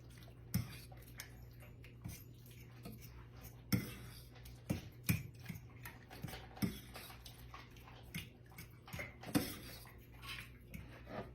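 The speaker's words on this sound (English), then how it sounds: "I'm just gonna kind of stir that in" Utensil scraping and clinking against a bowl while taco salad ingredients are stirred together, a series of light irregular taps and scrapes over a steady low hum.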